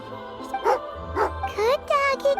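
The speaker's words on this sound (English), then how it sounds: "Good doggy. A fellow dog." A dog in the Genshin Impact video game lets out a few short, close barks and whimpering yips in quick bursts, with game jingles and speech mixed around them.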